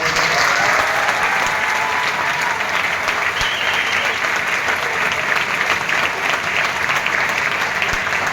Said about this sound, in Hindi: अब इस टाइम पर ये एक सेलिब्रेशन का टाइम बनता, जोरदार ताली बजाओ।